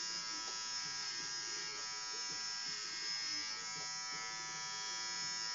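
Electric clippers run with a steady, close, high-pitched buzz throughout as a head is shaved, with voices talking faintly underneath.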